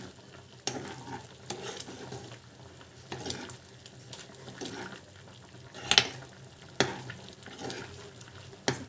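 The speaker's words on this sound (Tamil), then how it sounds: "பாருங்கள், சூப்பராக வந்து கொதிக்குது" Steady sizzling and bubbling of mushroom curry boiling in a pan, with a few sharper clinks and stirring knocks scattered throughout; no talking.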